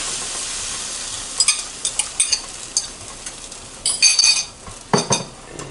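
Eggs sizzle in a warm pan with onions and peppers, a steady hiss broken by sharp scrapes and clinks of a small spatula stirring, close up and without talk.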